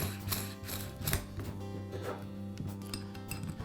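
The keyless chuck of a DeWalt cordless drill being opened by hand, giving a series of small mechanical clicks and ratcheting ticks over a steady humming background.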